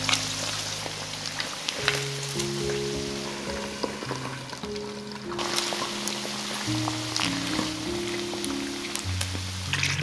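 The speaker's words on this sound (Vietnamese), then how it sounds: "mình đậy nắp lại và mở lửa trở lại và tiếp tục chiên" Constant crackle and spatter of chicken feet deep frying in oil, steady throughout with light popping, background music faintly underneath.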